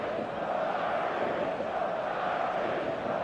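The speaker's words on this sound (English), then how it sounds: "songs ringing down from the stands" Stadium crowd in eFootball 2025 on a clear evening before a showcase match, a steady dense roar of massed voices singing from the stands, loud and continuous with no break.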